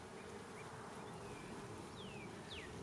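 Honeybees in a weak hive give off a steady, soft, continuous buzzing hum, with a couple of faint high chirps drifting over it.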